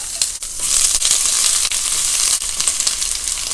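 Steady, loud sizzling of small anchovies frying in hot oil, a dense crackling hiss with occasional sharper pops and stirring clatter.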